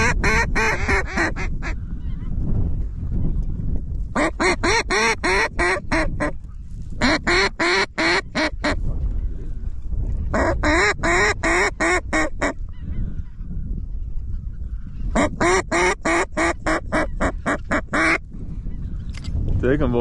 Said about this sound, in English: More specks coming out. And ducks coming with them.